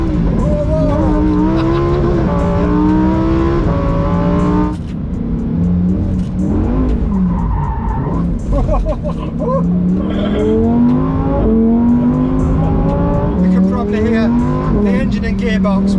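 A Lamborghini Aventador SVJ and a Huracan STO race with traction control off, their loud engines droning and revving continuously up and down in pitch, with voices talking over the roar.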